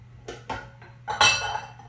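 A bowl is grabbed and handled in a kitchen, giving a few separate clinks and knocks of dishware followed by a louder rattle of pots and utensils, close by and with no talking.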